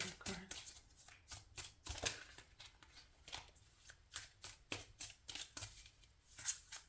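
Tarot cards being shuffled by hand, a quick series of crisp riffling and slapping bursts repeating at a brisk, slightly uneven rhythm, close and clear.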